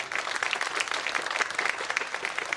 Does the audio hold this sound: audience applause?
yes